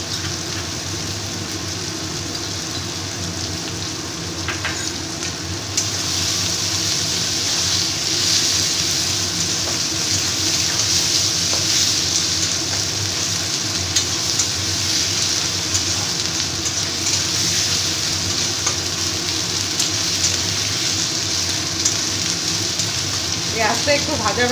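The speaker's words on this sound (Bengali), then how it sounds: "পেঁয়াজটা একটু ভাজা ভাজা হয়ে গেছে" Onion sizzles steadily with ginger-garlic paste in hot oil while mutton kosha is being cooked. A constant hissing fry runs under low kitchen noise throughout, with no speech.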